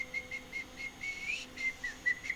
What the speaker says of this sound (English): This is a whistle done today.